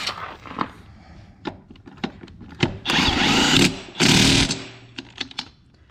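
An impact wrench fitted with torque sticks tightens lug nuts while fitting wheel spacers on a vehicle, heard as several short rattling bursts followed by two longer buzzing runs, close up and loud, with small clicks between.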